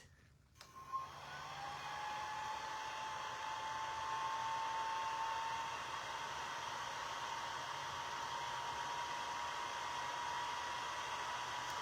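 A hair dryer runs steadily and fairly loud after a brief click at the start, blowing a constant airy whir with a faint whine while drying a Christmas Santa craft kit in a garage.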